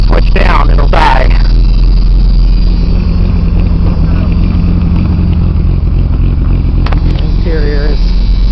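A car engine held at raised idle by an electronically controlled high-speed idle solenoid, a loud steady low rumble running throughout, with someone speaking over it at the start and end.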